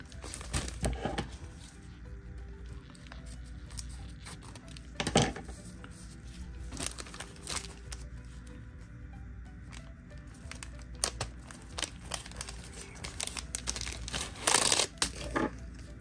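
A small plastic bag of nail supplies is cut open and handled, giving close crinkling and rustling with sharper snips and crackles in bursts across the clip, and no talk.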